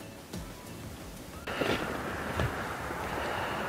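Rain falls outdoors as a steady broadband hiss that grows louder partway through, mixed with wind buffeting the microphone and with no talk.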